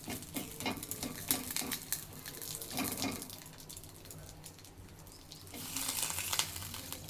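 Rui (milkweed) leaves coated in oil roast on a hot pan, giving a steady, close sizzling crackle that runs without a break and swells slightly toward the end.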